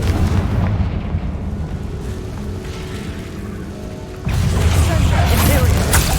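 A Confringo fire spell blasting in the Hogwarts Legacy video game, a loud booming burst with rumbling crackle that drops and then swells again into a second heavy blast, amid game action noise.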